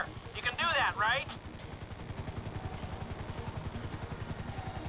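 Helicopter hovering in the GTA 5 video game, a steady rhythmic rotor chop running throughout, briefly masked near the start by a louder burst of warbling game sound.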